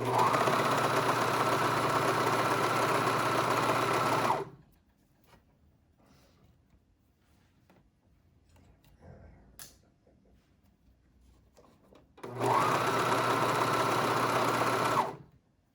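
A sewing machine stitches a knit waistband with elastic in two long, steady, loud runs, with a quieter stretch of fabric handling and faint movement between them.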